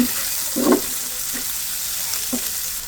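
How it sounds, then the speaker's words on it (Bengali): Onion, garlic and a hilsa fish head fry in a pan with a steady close sizzle, punctuated by three or four soft stirring strokes, with no voices. "লবণটা দিয়ে একটু নেড়ে ছেড়ে দিচ্ছি"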